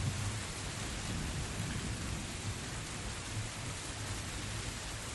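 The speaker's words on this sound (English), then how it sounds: "And it begins raining." Rain pours steadily as a loud, dense hiss over a low thunderous rumble, a sustained storm wash with no pauses and no voices.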